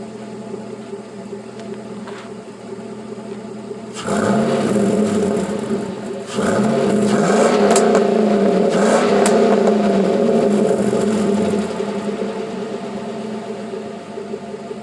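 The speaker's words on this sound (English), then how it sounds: "I'll give you a few revs" A car fitted with a Carven R muffler, swapped in for a Flowmaster Super 10, idles and then is revved twice, each blip rising to a loud, sustained exhaust roar before settling back toward idle, close to the tailpipe with no talk.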